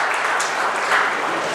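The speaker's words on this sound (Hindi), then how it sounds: "एक बार स्कूल प्रशासन के लिए जोरदार तालियां बजाइए।" Audience applause at a school Class 10 exam results ceremony in India, a dense, steady patter of many hands clapping, moderately loud and unbroken.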